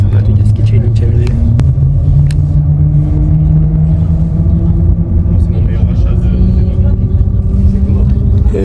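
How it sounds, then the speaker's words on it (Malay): Interior of a high-speed train in China just starting to move, a loud steady low rumble with rising motor whine filling the cabin throughout. "So aku dah dalam train, dia baru je gerak."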